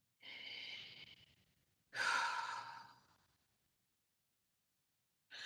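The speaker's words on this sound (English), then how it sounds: "Take a deep breath in here." Two slow, deep breaths drawn in close to the ear, each a soft airy rush lasting about a second, separated by a brief pause, with a third breath just starting at the end; no talking.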